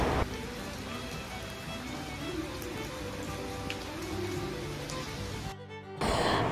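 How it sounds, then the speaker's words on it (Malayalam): Steady monsoon rain falls on an outdoor garden where roses grow, a dense continuous patter and hiss that drops out briefly near the end before resuming. "അങ്ങനെ പറഞ്ഞ് കാത്ത് മഴ ഇങ്ങ് വന്നുല്ലേ."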